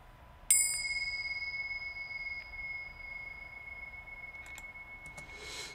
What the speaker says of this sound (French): Des cymbalettes tibétaines.